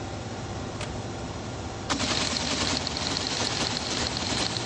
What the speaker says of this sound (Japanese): 穴の配列をテレタイプが読み取りコンピューターに送り込む。